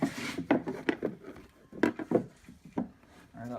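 Plastic Yamaha OEM front cargo box being slid into place underneath, with a series of short scraping and rubbing knocks spaced irregularly, close and fairly quiet.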